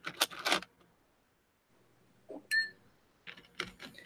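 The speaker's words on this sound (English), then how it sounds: "And now I'm going to add in an ice cube." An ice cube drops into a glass holding a half-ounce of Yellow Label whiskey and an ounce of cola, giving a few bright, close clinks and rattles separated by quiet pauses.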